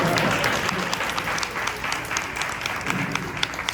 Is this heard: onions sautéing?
no